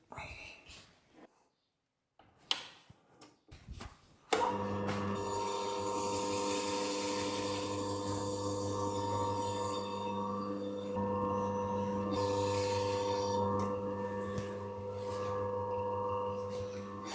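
An electric meat slicer runs through a homemade prosciutto cured for a year, its motor starting after a few soft handling knocks and then holding a steady, close whine with a faint cutting rasp.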